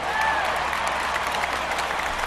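A steady, airy roar from a stadium crowd in a baseball video game featuring the 1968 Yankees and 1965 White Sox, continuous and fairly even throughout without any clear cheers or peaks.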